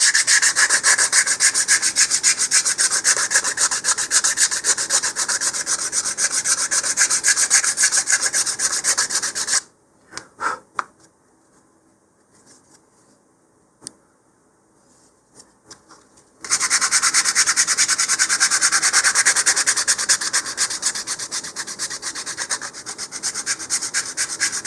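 Sandpaper rubbing on a cardboard model rocket body: steady, close scratchy back-and-forth sanding, a quiet pause with a few light taps in the middle, then the rasping resumes.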